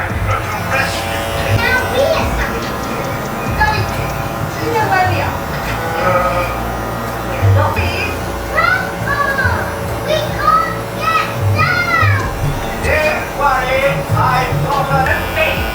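An electric hair clipper cutting during a high taper fade, a steady buzzing hum running under children's voices and chatter in the room.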